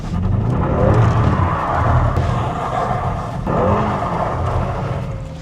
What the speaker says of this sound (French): du coup voilà, donc là, on va se faire un petit drift